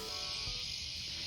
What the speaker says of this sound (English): That's the song of cicadas.